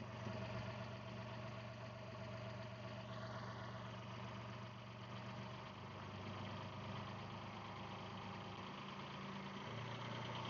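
A narrowboat engine idling in the countryside, a steady low mechanical rumble with a regular throb, continuous and close.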